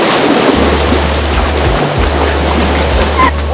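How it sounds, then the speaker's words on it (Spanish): Steady, loud rushing water from a jungle waterfall near Lamas, Peru, fills the whole clip, a dense continuous roar with a low rumble underneath and no pauses. "Así que a disfrutar de esta bonita cascada."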